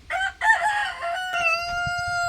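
A naked neck rooster crows once, close and loud, a long drawn-out call that starts with a brief break and ends on a held, fading note.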